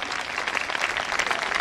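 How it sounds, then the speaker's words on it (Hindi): An audience at a spiritual gathering and bhajan evening in Lucknow claps loudly to welcome a guru onto the stage, a dense, continuous burst of applause filling the room. "एक बार जोरदार तालियों के साथ स्वागत"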